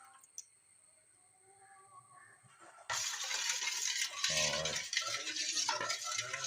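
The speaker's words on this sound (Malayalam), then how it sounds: "ഇത് ഏതാണ്ട് 1 മിനിറ്റോളം നന്നായിട്ട് ഇളക്കി യോജിച്ചതിന് ശേഷം" Oil being stirred briskly with a spoon in a container for homemade soap, colouring dissolved into it; scraping, clinking strokes start abruptly partway through and continue loud and steady after a quiet opening.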